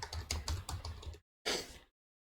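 Rapid keystrokes on a computer keyboard while typing an SQL query, a quick run of clicks breaking off into silence before one short final burst, close and moderately quiet.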